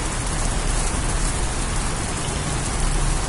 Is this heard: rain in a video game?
yes